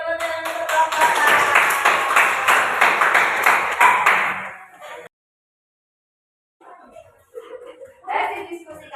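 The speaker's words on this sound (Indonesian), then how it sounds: "Beri tepuk tangan untuk kelompok A." Children in a classroom clapping for group A, a burst of rhythmic hand claps lasting several seconds before stopping, followed by brief children's voices and chatter.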